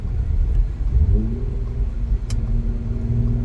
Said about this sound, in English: we are about to get on the interstates here, and we'll see kind of how it's reacting at a higher RPM